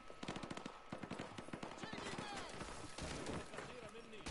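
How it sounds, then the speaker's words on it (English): Dense, rapid automatic gunfire and scattered shots from a Modern Warfare campaign battle around a school, loud and continuous throughout with shouted voices mixed in. "We're taking heavy fire from the school."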